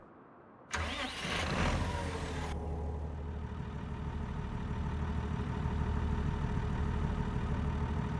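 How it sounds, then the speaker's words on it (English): A tractor engine in Farming Simulator 25 cranks over and catches, then settles into a loud, steady idle while it warms up. The running drone holds constant and close throughout, with no voices. "we got to warm this tractor up for just a little bit"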